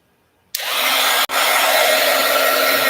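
A heat dryer drying craft paint on a board starts abruptly, blowing a loud, steady roar up close. It cuts out for a split second, then resumes and keeps running without talk.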